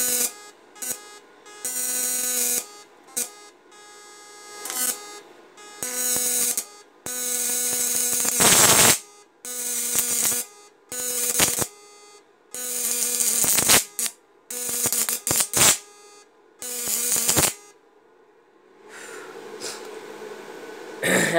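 An inverter-powered electric fish shocker machine buzzing loudly and harshly in repeated bursts of a second or two, each one cutting in and out with short silences between.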